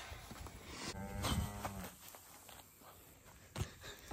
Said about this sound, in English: It's mooing at me.